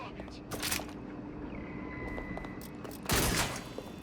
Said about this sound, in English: Shots fired! I'm getting shot at here!